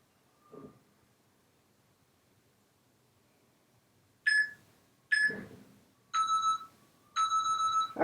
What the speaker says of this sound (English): The double beep means you're done with that group